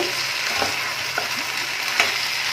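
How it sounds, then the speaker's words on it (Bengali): Pre-fried chicken tossed with cornflour, pepper and garlic makes a steady, close sizzle in the pan, with light scraping and a few soft utensil taps as it is stirred. "এবার আমি যেই চিকেনটা ভেজে রেখেছিলাম সেটা পুরোটা দিয়ে দিলাম। এটা একদমই ড্রাই হবে। এবার ভালোভাবে মিক্স করে নেব।"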